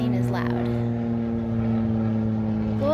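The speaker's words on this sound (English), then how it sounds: "oh, that plane is loud" Loud plane flying overhead at a backyard beach spot, a steady droning hum that holds strong and level throughout, with people talking underneath.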